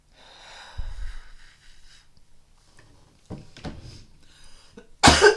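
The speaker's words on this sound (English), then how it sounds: "It's the golf cough" A few isolated coughs and throat-clearing bursts from one person in a quiet indoor space, separated by near silence, with a louder harsh cough at the close.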